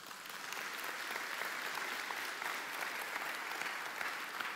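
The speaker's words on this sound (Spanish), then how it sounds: "dale un fuerte aplauso al Señor" A church congregation claps loudly and steadily during a sermon, a dense, even wash of applause from many hands that holds for several seconds without a break.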